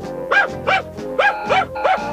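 A cartoon dog barks five times in a steady rhythm, each bark a loud, close, tonal yelp with a bright pitched contour, with no talk over it.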